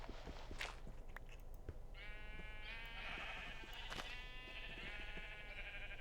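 Sheep bleating in Minecraft, a few wavering cries in a row over a steady low game background hum, with soft clicks and thuds from in-game activity.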